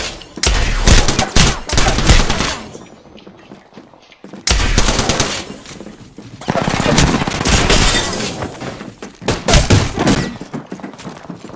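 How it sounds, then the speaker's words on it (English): Rapid automatic gunfire in the Apex Legends battle royale shooter, loud bursts of sustained fire in three main volleys separated by brief pauses, with sharp impact thuds mixed in. "I'm taking shots."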